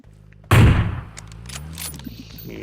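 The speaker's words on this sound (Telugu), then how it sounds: "స్నైపర్ షాట్ వచ్చింది చూడండి" A single sniper rifle shot in the mobile battle royale game BGMI cracks out sharply and loudly, then trails off into a fading echo while game sounds continue at a low level.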